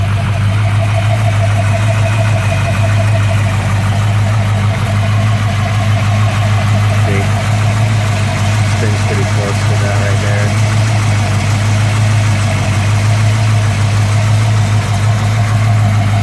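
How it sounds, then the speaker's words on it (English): A 1965 Ford Mustang fastback restomod engine idles steadily and loud at close range, a continuous low rumble with an even mechanical pulse running unbroken throughout. "When the engine warms up, then it actually idles closer to around 900 RPMs."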